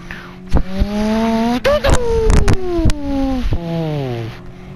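A voice mimics a breaking car transmission with a strained, whining drone that slides downward in pitch, cut by sharp clicks and clunks. Close and loud, it falters and then trails off lower.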